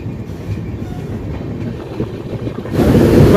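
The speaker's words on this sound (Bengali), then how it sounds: "এখন ট্রেন আস্তে আস্তেই চলছে" Train running slowly near New Farakka Junction toward the Farakka bridge, heard from inside an AC coach as a steady low rumble with soft clickety-clack that grows louder near the end.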